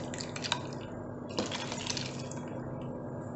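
Water rinsed out of a blender jar poured into tomato dosa batter, with a splash near the start, a second pour about halfway through, and soft trickling and dripping throughout, close by and with no talk.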